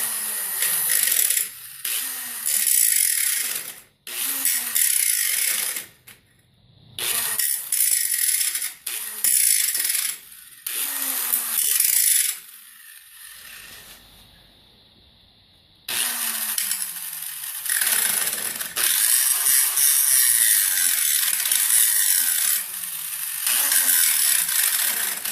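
An angle grinder cuts a small sliver into the metal of a TIG welding cart, giving loud, harsh bursts of grinding that start and stop repeatedly, with short quiet gaps between passes.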